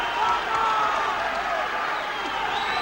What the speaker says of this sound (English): The crowd at the back of the hall here really on their feet for this